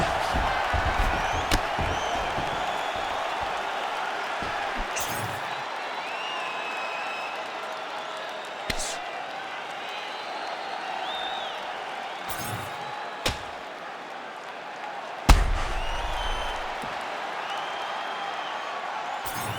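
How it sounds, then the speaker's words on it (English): Virtual crowd in the EA Sports UFC 5 video game after an MMA fight round, a continuous broad roar of cheering and applause with occasional sharp thumps and slams, no voices standing out. "the crowd voicing its appreciation after that crazy sequence in the previous round"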